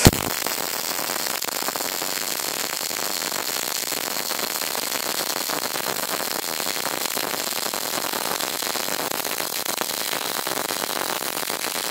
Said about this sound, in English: So we're welding 1/8 inch material